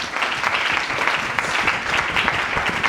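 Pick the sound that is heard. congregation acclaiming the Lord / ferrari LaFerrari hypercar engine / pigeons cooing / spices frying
congregation acclaiming the Lord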